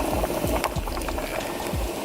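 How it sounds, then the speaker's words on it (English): A pot of water boils hard on a kitchen stove, with close, continuous bubbling and rapid gurgling pops churning throughout. "I do have a pot of water boiling on the stove already"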